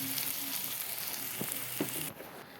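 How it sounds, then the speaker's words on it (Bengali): Onions fry in a pan, browning before spices are added, giving a soft, steady sizzle close by with a few faint stirring touches, easing off slightly near the end. "পেঁয়াজটা লাল করে ভেজে নিই"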